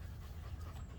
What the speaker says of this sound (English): The dogs are panting very loudly.